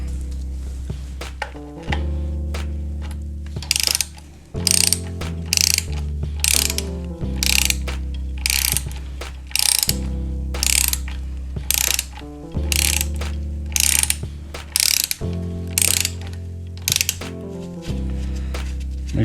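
A ratchet clicking steadily while backing out a lock nut on a BMW R1100RT motorcycle transmission, the rapid pawl ticks coming in repeated bursts with short pauses between strokes, close and clear.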